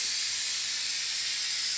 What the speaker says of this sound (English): I'm spraying on this half